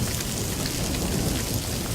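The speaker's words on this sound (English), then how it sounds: "It is raining here in California right now. Thunder, lightning," Heavy rain pours during a thunderstorm in California, a dense, steady hiss of falling water with a deep rumbling of thunder rolling underneath throughout.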